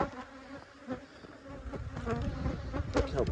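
Honey bees buzz at an open hive during a fall inspection, a dense, close drone that swells and wavers over a few seconds, with light handling knocks mixed in and no talking.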